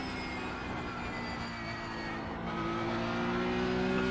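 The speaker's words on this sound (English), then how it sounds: "I'm able to use the engine tone to figure out what the rear tires are doing" Race car engine droning steadily in a racing video game at the Nürburgring, a sustained tonal whine that holds level and slowly rises in pitch and loudness toward the end, with no talk.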